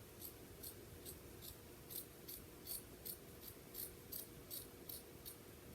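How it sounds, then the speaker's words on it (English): Scissors trim the back of a youth-size T-shirt with about a dozen quiet, evenly spaced snips, close up. "I'm just going to go back and trim this up a little bit"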